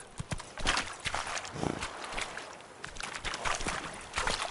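Hooves of Roach, Geralt's horse, clip-clopping at a quick gait in The Witcher 3: Blood and Wine, a steady close rhythm of dull thuds over faint ambient background.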